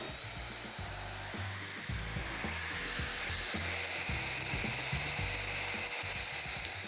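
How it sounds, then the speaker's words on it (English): A power tool cuts mortises into a wooden side panel for a mobile workbench cart, its motor whining steadily while repeated rough plunges and chattering bursts of cutting come in quick, uneven pulses, close by with no talk. "So now with the shelf mortised out and this side panel mortised out"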